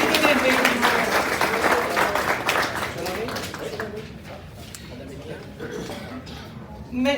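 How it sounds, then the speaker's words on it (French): A municipal assembly in Hébertville applauds its outgoing councillors, with dense, loud clapping that gradually thins and fades toward the end. "Une bonne main d'applaudissements pour les conseillers et conseillères sortantes de la municipalité d'Héberville."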